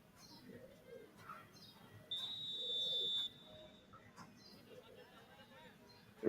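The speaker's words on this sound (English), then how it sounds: "The referee blows a whistle to restart proceedings." A referee blows a single sustained whistle blast of about a second to restart play at an AP Super Cup football match, shrill above a low background of crowd noise and faint commentary.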